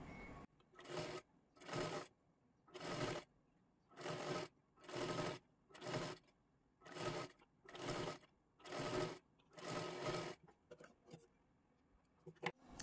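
A domestic sewing machine runs a straight seam along the folded edge of a size-38 princess-cut blouse, in about nine steady bursts of motor whir that stop and start with short pauses between, close and clear.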